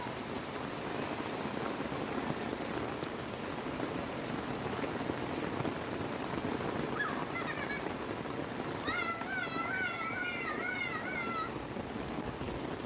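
Steady rainy-season rain in the Philippines patters and hisses over everything, and a cat meows a few times partway through, fairly faint against the downpour.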